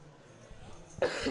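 A cough rings out near the end, loud and close, in a busy poker tournament room where a faint murmur of voices carries on beneath it.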